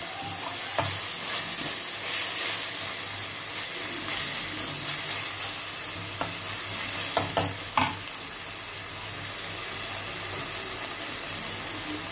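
Potato curry for a dosa aloo fry sizzles steadily in a pan, a constant close crackle with a few scattered clinks of a spoon stirring, and no talk.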